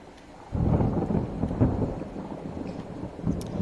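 Thunder rumbles through a stormy day near an island shore, a sudden low roar swelling in at once and rolling on with uneven swells, mixed with a wash of rain and wind.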